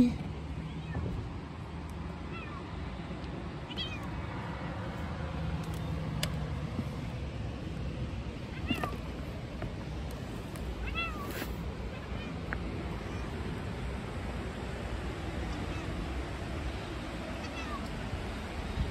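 A pet cat meowing a few times as it is let out of a motorhome at a campsite, the short calls fairly faint over a steady low background rumble.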